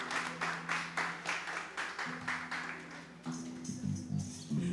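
Applause for a performer at a live percussion show, a crowd clapping in steady bursts that swell and fade, fairly close and filling the space, with a voice briefly audible underneath.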